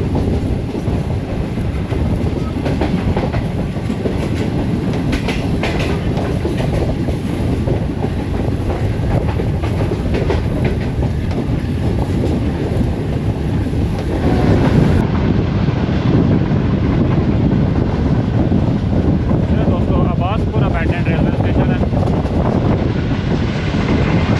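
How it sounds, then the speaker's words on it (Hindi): The Shalimar Express, a brand new train on the Lahore to Khanewal route, rolls steadily along the rails, a continuous loud rumble with faint clickety-clack and wind noise heard from on board, passing through a station. "ट्रेन हमारी इस वक्त रसाले वाला रेलवे स्टेशन से पास थ्रू कर रही है"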